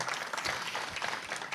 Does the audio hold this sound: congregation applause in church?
yes